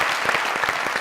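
Studio audience applause on a Pakistani talk show, steady dense clapping filling the whole second at moderate loudness with no voices over it.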